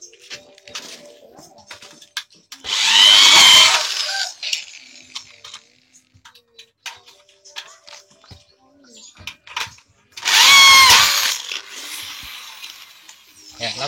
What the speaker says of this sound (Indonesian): kemudian kita bor.